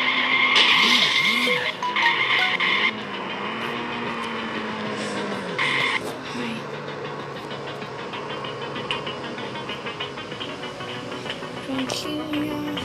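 Car tires skid and squeal inside the horror video game Ice Scream, a loud sustained screech with pitch swoops early on, fading into steady engine and road noise with a faint voice underneath.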